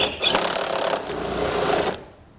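A socket on an extension turns out a 10 mm bolt on a 2022 Chevrolet, giving a short, close scraping ratchet-like rasp of about two seconds that stops abruptly.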